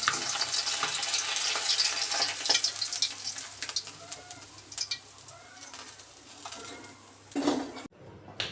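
Fish curry bubbling and sizzling in a pan on the stove, a dense crackling hiss with scattered clinks of utensils, close and continuous, fading near the end; birds chirp faintly in the background.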